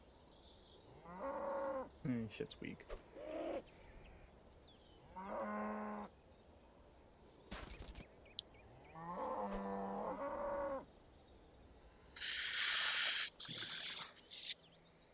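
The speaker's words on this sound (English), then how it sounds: "I can't stop killing all the cows." Cows mooing in a survival video game, several drawn-out calls at moderate loudness spread across the stretch, with a brief spoken remark and a burst of other game noise near the end.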